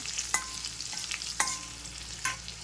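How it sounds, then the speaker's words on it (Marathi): A Marathi phodni tempering of chilli pieces and turmeric sizzling in a pan while a spoon stirs it, a soft steady fry broken by three or four sharp metallic scrapes, close by with no voices. "चांगलं हलवून घेऊया"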